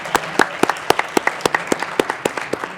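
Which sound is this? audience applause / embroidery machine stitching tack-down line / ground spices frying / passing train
audience applause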